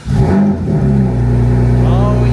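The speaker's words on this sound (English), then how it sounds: "That's what a cold start sounds like on a single turbo M3" Single-turbo BMW M3 engine firing up from cold, a loud, steady high-idle drone with strong low harmonics that holds throughout, close by, with a brief rising whine near the end.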